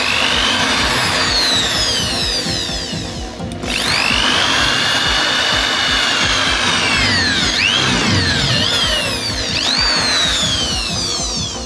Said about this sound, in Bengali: তারপর চামচটি মাঝখান থেকে আমরা এভাবে হোল করে নেব।